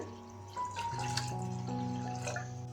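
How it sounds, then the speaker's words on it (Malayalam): Water pours steadily into a pan holding toor dal for a drumstick-leaf dal curry, a continuous close splashing and trickling stream with faint ringing tones. "ആവശ്യത്തിന് വെള്ളം കൂടെ ചേർത്ത് കൊടുക്കുകയാണ്"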